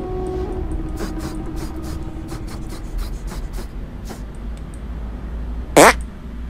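A cartoonish fart attack in the video game South Park: The Stick of Truth. It bursts out as a single loud blast near the end, after a stretch of quieter game ambience and faint clicks.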